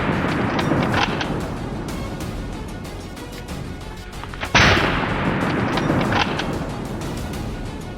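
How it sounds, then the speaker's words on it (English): A hunter fires at a wild boar that broke through a farm fence: one sharp, loud gunshot crack stands out midway over a dense, rumbling background, followed by a fading roll. "fired a second shot, this time to kill the prey"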